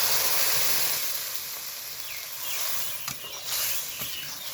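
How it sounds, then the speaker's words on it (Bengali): Drumstick pods fry in hot oil with a broad, hissing sizzle that is loudest at the start and then eases, with a couple of brief clicks near the end. "আর সজনে ডাঁটা দিয়ে দিব তেলে।"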